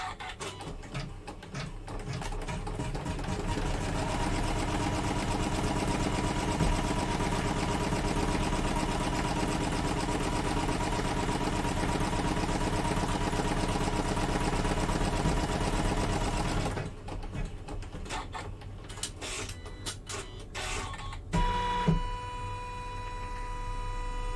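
Embroidery machine stitching out an in-the-hoop double pocket zip case design, a steady, loud mechanical whirring hum that runs continuously for most of the clip, then breaks into uneven stops and short bursts near the end.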